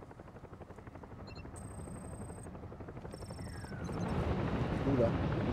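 Helicopter in the video game Ghost Recon Breakpoint, a low rhythmic rotor thump that grows louder toward the end, with soft interface tones and faint game effects over it.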